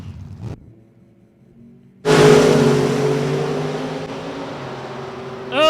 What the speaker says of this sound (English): We'll bring that 89 model bow tie supercharged Chevrolet to the starting line.